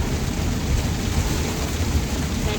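Heavy rain pours down in a dense, unbroken hiss and rumble, a loud, steady wash of sound with no voices over it.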